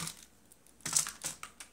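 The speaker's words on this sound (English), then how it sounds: "move on to the keyboard. Basically, how it works is keys push down" A few light clicks and taps of computer keyboard keys being pressed, irregular and close, alone in a quiet room.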